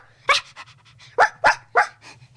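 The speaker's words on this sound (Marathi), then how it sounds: "मोती आला, मंगलाचा कुत्रा." Several loud, close barks come from a dog visiting a school, spaced irregularly, with softer breathy panting and small yips filling the gaps and a low hum underneath.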